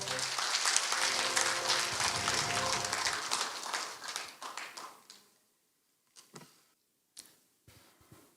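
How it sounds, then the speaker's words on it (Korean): Audience applause at a Korean academic foundation's inauguration ceremony for a new board chair, a dense, sustained crowd clapping that thins into scattered claps and fades out, with a few isolated taps afterward. "박수 부탁드리겠습니다"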